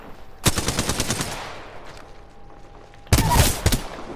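Automatic weapon fire in the Apex Legends video game comes in two loud bursts of rapid shots, the first about a second long with a ringing tail, then a shorter burst near the end, with no talking.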